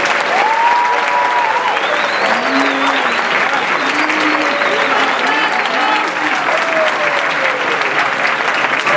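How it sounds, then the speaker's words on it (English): Steady, loud applause fills a room at a high school marching band banquet, dense continuous clapping from a large crowd, with faint voices and whoops drifting through. "Let's give them all a round of applause."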